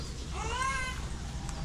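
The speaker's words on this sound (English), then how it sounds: "Cat down that way." A cat meows once outside the gates of Nha Trang University in Vietnam, a clear drawn-out cry standing out against a steady street background with no talk.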